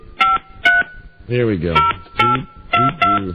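Telephone keypad tones beep in a sequence of short, evenly spaced pairs as a number is dialed on a radio show, with a speaking voice breaking in partway through and carrying over the tones.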